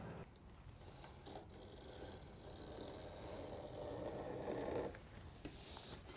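Screen mesh on a rebuilt screened-in porch being cut along the spline, a steady quiet rasping and rubbing that drags on for several seconds and swells slightly near the end, with no talk.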